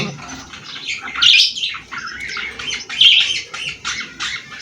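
Pair of newly bought pet pigeons calling close by, with repeated chirps and squawks rising over steady background bird chatter and no talk.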